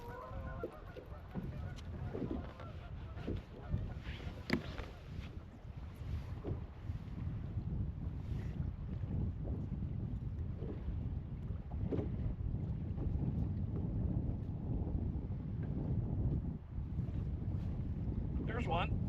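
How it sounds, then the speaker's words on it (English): Wind gusting steadily across an exposed lake bank during early spring bass fishing, a continuous low rumble and buffeting close to the microphone with no talk. "And then this wind started blowing."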